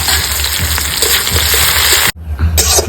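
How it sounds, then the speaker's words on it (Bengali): Chopped onion hits hot mustard oil already seasoned with dried chilli, whole cumin and garam masala, giving a loud, steady sizzle that cuts out briefly and then resumes. "এবার দিয়ে দেবো পেঁয়াজ কুচি।"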